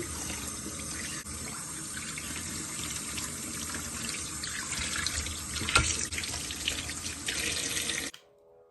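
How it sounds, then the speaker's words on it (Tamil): Steady running tap water splashing into a sink while mackerel is washed, for several seconds, close and continuous, then abruptly stopping. "நல்ல குளிர் தண்ணியில் கழுவுவோம்"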